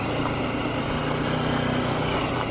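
A BMW G 310 GS adventure motorcycle engine runs with a steady, dense rumble, close and continuous throughout, no talking.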